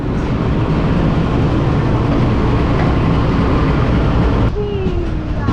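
Green Line train arriving at Lahore railway station, a loud continuous rumble and rolling roar that fills the platform, with a faint squeal rising near the end.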